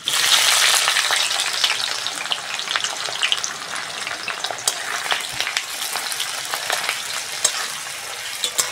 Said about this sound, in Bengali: পেঁয়াজটা এদিকে ভাজা হোক